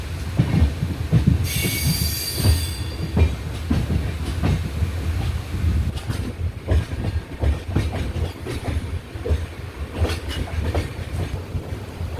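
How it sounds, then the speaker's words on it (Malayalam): KSR Bengaluru Express running on rails in Kerala, a steady near rumble with rhythmic wheel clatter throughout and a brief high wheel squeal early on. "ഡെയിലി സർവീസ് നടത്തുന്ന ട്രെയിനാണ് ഈ KSR ബംഗളൂരു എക്സ്പ്രസ്"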